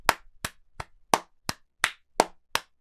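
A person imitates aggressive applause with eight sharp, loud claps. The claps come at a steady, deliberate rhythm, each ringing briefly in a quiet room.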